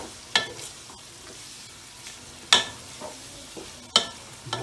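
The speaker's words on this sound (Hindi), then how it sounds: "अब इसमें डालेंगे लहसुन अदरक का पेस्ट" Garlic ginger paste fries in a pan while it is mixed in: a faint, low sizzle sits under three sharp, close scrapes of the spoon, spaced a second or two apart.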